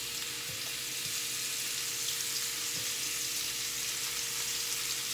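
Shrimp seasoned with garlic powder fry in a pan for a pasta dish, giving a steady, even sizzle that runs throughout without any talking.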